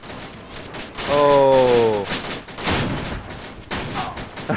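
Heavy gunfire in ArmA 2 Operation Arrowhead crackles in loud, rapid bursts, with a startled vocal exclamation rising over the shooting early on.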